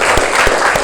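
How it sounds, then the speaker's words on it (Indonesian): Students clap for a classmate during an Indonesian-language lesson in a classroom, a short, dense burst of applause that fills the room at steady loudness. "Tepuk tangan untuk Yuda."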